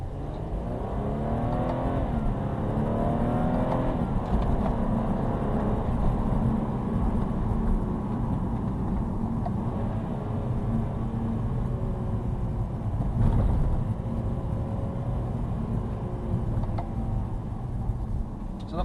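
A BMW 228i engine drones steadily throughout as the car drives and accelerates, its revs rising and falling in smooth sweeps, loud and close with no talk.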